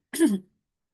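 A single short cough or throat clear sounds close and alone, lasting well under half a second and followed by silence.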